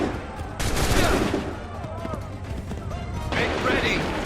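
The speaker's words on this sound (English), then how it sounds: "Open fire!" A volley of musket fire in Assassin's Creed 3, a crashing burst of many shots at once followed by rolling battle noise, with shouted voices over the clamor.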